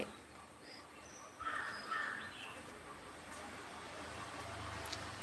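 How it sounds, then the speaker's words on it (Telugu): Birds call outdoors in a quiet setting, a few faint chirps and caws rising over soft background hiss, with a slightly louder burst of calls early on. "వినిపిస్తున్నాయా పక్షుల సౌండ్"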